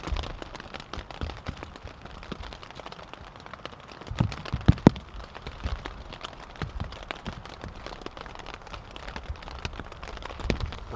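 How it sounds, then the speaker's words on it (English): Rain falls steadily on a hot tent with a wood stove during a stormy winter overnight camp, making a continuous close patter with a few sharper drops and gusts. "still raining as I'm sure you can hear"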